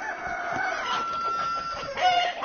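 Chickens and roosters clucking and crowing close by on a farm, several birds calling over one another for a couple of seconds with no talking.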